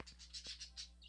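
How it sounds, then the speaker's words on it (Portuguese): Birds chirp and tweet in short repeated bursts, fairly faint, as ambient sound within a Clash of Clans game, with no talking. "tem uns passarinhos cantando aqui igual uns loucos"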